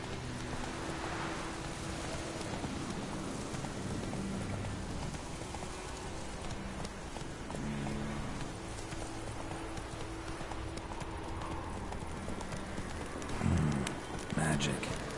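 Horse hooves galloping in The Witcher 3, a steady clip-clop rhythm under someone talking excitedly in Portuguese, with brief louder thumps near the end.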